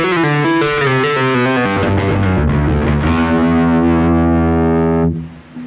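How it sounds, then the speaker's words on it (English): Loud, fuzzy bass guitar notes played through an MXR bass distortion pedal, sustained chords ringing thick and gritty before cutting off abruptly at the end. "MXR bass distortion."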